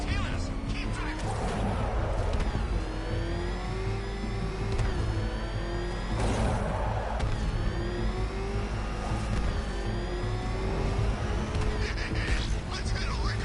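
Car engine in a chase in Batman: Arkham Knight, a steady loud drone with a rising and falling pitch that suggests hard acceleration, continuous throughout alongside game effects.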